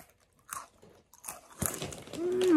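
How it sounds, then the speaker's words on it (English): Thin Snyder's of Hanover pretzel sticks are bitten and chewed up close, a few sharp crunches followed by a dense run of crackly munching that grows louder, with no talking. "one of my favorite snacks is the thin pretzel sticks. I can munch on this a lot."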